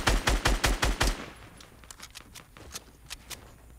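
Rapid automatic gunfire in the video game Fortnite Battle Royale: a fast burst of about seven loud shots, then scattered fainter distant shots trailing off.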